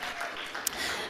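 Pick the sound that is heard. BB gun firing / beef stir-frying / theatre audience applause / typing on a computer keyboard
theatre audience applause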